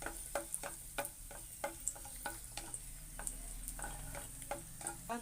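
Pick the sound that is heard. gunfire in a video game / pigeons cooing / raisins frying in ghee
raisins frying in ghee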